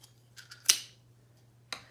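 Scissors cut drinking straws in half, giving a few short, close snips with a sharp crunch and brief pauses between cuts.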